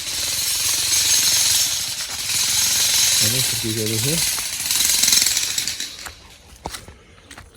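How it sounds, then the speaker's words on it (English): Jackhammer breaking rock during landscaping work on a residential property, a loud continuous hammering rattle that runs through most of the clip, with someone speaking briefly over it before it fades into quieter outdoor noise. "that's the update with the jackhammer"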